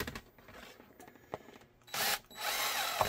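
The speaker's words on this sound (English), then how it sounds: "I'm going to be drilling" Power drill boring into a plastic holster mold, short bursts of whirring with clicks and handling noises between them, the last burst longer and louder, recorded close in a quiet workshop.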